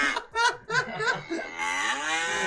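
A person imitates a cow with a few drawn-out, wavering moos voiced in quick succession, close and fairly loud, ending in a longer sustained bellow.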